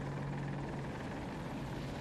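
Rotor of an AH-64 Apache attack helicopter in a video game: a short burst of thick, steady whirring roar with a low humming tone, loud and continuous throughout.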